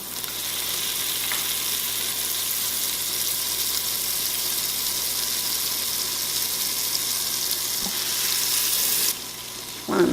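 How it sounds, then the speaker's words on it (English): Butter melts and sizzles in an Instant Pot on the saute setting for a shrimp étouffée roux, a steady close crackling hiss with faint stirring clicks, ending abruptly. "Want to melt all that butter."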